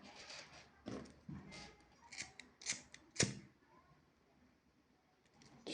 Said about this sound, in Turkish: Şimdi ipimi şu noktadan kesiyorum.